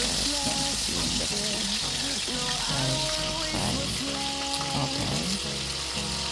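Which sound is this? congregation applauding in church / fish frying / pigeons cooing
fish frying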